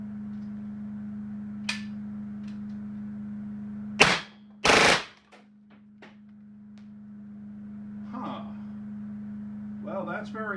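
Shots from an AEA BW S45 mini .357 air rifle firing 125-grain rounds, two sharp loud cracks close together over a steady hum, followed by quieter handling sounds and some speech.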